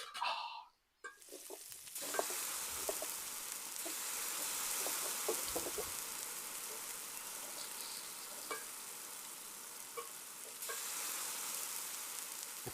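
Oxtail dropped into a hot cast-iron potjie pot, a sudden clatter followed by a sustained crackling sizzle with scattered pops, steady and close, no talking.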